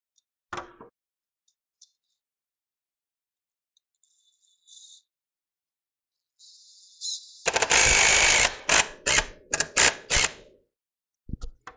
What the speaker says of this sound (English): Yeah, just screw it in.